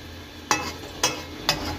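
Lentil badi fry in oil left over from frying rohu fish, a low steady sizzle broken by three evenly spaced sharp clinks of a utensil against the pan, close and without talk.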